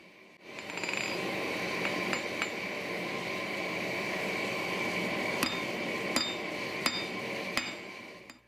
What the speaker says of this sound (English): By using this diagonal peen hammer, I'm forcing valleys and peaks in the steel.